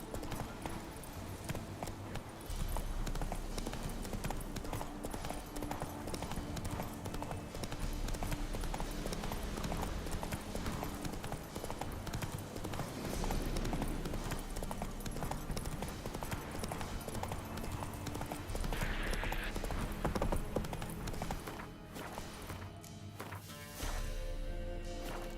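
Roach's hooves clip-clop in The Witcher 3 video game, a continuous, even beat of hoof strikes at moderate loudness, with a few heavier thuds amid game ambience.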